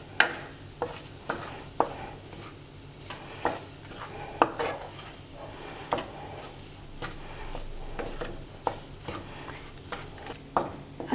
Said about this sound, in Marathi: पाच मिनटं पीठ सतत भाजत राहायचं